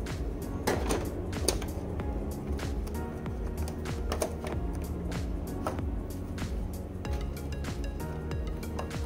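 Plastic packaging of a Pittsburgh Deluxe headlight lens renewal kit being opened, with continuous crinkling, rustling and sharp clicks and taps throughout.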